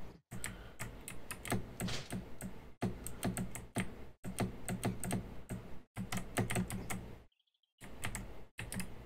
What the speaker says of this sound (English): I feel like my keyboard's so fucking loud right now.